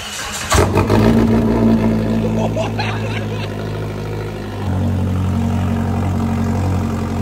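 A souped-up car engine with a turbo boost setup runs close by, rasping like a rotary: a sharp rev near the start, then a steady, rough idle with a low droning hum that grows louder partway through.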